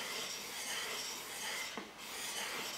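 Steady abrasive rasping of a cambered plane blade edge being polished on a sharpening stone, a continuous close scraping with only a brief dip in the strokes, no talk.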